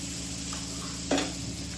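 Chicken pieces cooking in a hot pan for chicken tikka, giving a steady low sizzle with a brief louder burst of frying noise as the meat is stirred partway through.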